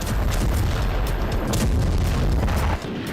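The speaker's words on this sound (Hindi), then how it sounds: "एक के बाद एक ये धमाके कीव में हो रहे हैं।" Russian Kinzhal hypersonic missile strikes explode over Kyiv. Repeated heavy booms and thuds sit inside a loud, continuous rumbling roar that drops off abruptly near the end.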